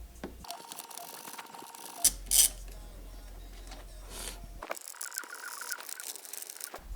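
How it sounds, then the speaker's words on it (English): A ratchet loosening a Torx 30 bolt inside a Tesla Model 3 door, quick metallic clicking in short bursts with a few sharper knocks and gaps between them, close and fairly quiet. "Behind here there should be the third Torx 30 bolt, so remove this guy."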